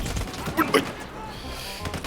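Gunfire in a game, a short cluster of sharp cracks bursting out in the middle of the clip. Shouting voices sit under and around the shots, with a rough background din throughout.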